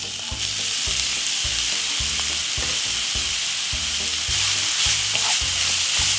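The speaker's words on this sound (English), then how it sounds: "we're gonna stir fry this for roughly about 3 to 4 minutes" Vegetables stir-frying in a hot pan for vegetable couscous, a loud steady sizzle with regular rhythmic scraping and tossing strokes about twice a second, close and without talk.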